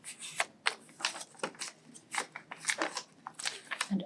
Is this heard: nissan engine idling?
no